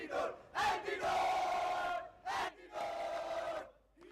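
An esports crowd at a Valorant grand final match roars and cheers in loud, sustained waves, swelling in several bursts with brief dips between them and no clear speech.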